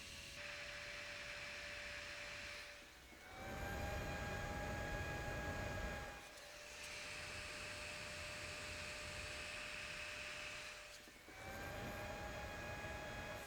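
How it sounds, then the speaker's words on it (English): A steady whirring from a version 2 cooling fan with a broad hiss of white noise and faint tonal whine, stopping and restarting in several cycles. "the new fan, the version 2, has more of a white noise"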